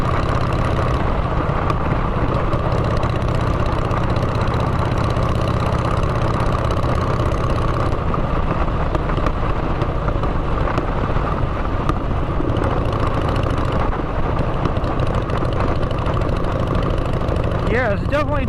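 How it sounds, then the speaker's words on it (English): A motorcycle fitted with drag exhaust pipes idles loudly and continuously nearby, a thick steady rumble that runs throughout, with a voice talking over it. "the drag pipes, what they do is they exhaust the gases faster than the Vance and Hines do"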